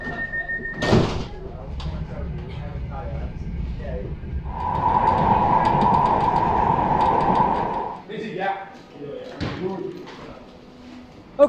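A Manchester Metrolink tram with its doors working: a door chime and sliding, then a sustained warning tone over the rumble of the tram. People talk nearby.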